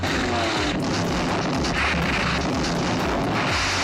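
Bombs dropped on a German submarine explode in a war movie, producing a continuous, dense, loud roar of blasts and rumbling with no pauses.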